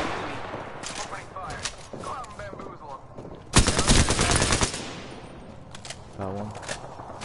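Gunfire rattles in a PS4 video game: scattered shots, then a dense burst of machine-gun fire near the middle and a few later shots, with people talking in between.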